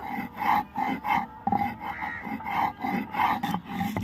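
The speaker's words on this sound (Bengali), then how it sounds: "এইভাবেই আমি এক এক করে সব মশলাগুলো বেটে নিব আদা রসুন পেঁয়াজ টমেটো কাঁচা লঙ্কা শুকনো লঙ্কা আমি সব বেটে নিব" Ginger, garlic, onion, tomato and green and dried chillies are ground by hand, giving a steady rhythmic rasping and rubbing that rises and falls in repeated strokes, close and fairly loud.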